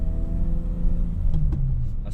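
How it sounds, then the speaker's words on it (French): A BMW 325i E30 engine running while driving, a steady low drone heard from inside the cabin. "Oh, on entend bien le moteur par contre."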